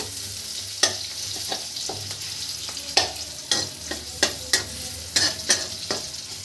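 Onions for egg chicken chow mein sizzle steadily in a hot pan while a spoon scrapes and stirs, knocking against the pan in irregular strokes.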